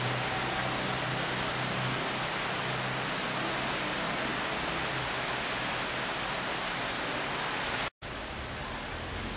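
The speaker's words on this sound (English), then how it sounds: "Water's running. Pretty good rain," Steady rain falling during Typhoon Frank after wind broke a tree, with water running; a continuous broadband hiss holds at an even level throughout, briefly cutting out near the end before resuming.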